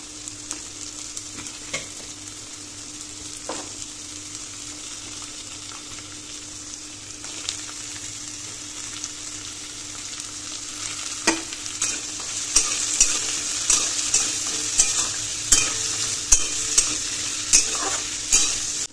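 Carrots and potatoes fry in a pan for gobindobhog rice khichuri, a steady close sizzle broken by repeated scraping stirs that grow louder and more frequent toward the end, with no talking.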